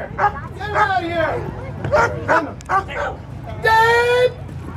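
Several excited dog barks and yips close by, mixed with people shouting, ending in a long high whine.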